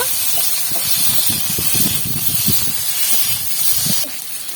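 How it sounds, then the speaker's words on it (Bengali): Steady, loud sizzling hiss of spices frying with tomato and chili powder for a fish curry, with irregular bubbling pops and spatters throughout, easing slightly at the end. "এবার একটু ভালো করে কষিয়ে নেব।"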